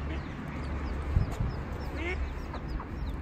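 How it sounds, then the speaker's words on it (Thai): Small ducklings peeping softly outdoors, faint chirps scattered over a steady background hum, with someone talking nearby. "น้องเป็ดน่ารักจังเลย"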